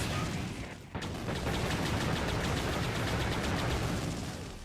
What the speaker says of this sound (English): so that's like a machine gun, I guess